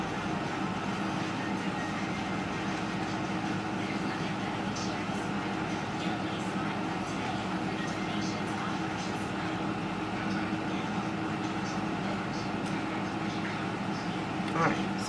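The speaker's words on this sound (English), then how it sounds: "If you guys hear that noise in the background, it's the air." An air conditioner drones steadily indoors, giving a constant, even broadband hum at moderate level that stays unchanged throughout.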